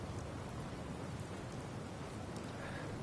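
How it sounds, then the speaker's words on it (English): Rainfall in the video game Fallout 4 as a quiet, steady hiss of rain with a low rumbling undertone, unbroken and without voices. "And it's raining."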